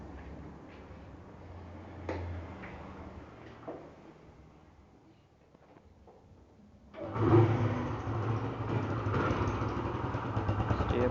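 A motorcycle with a modified original exhaust starts up after quiet handling noises and runs steadily at idle, close and fairly loud, with a rough, continuous rumble.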